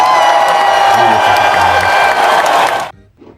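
School assembly crowd of children and staff clapping and cheering with whoops, loud and continuous, then cutting off abruptly into near silence with a faint voice.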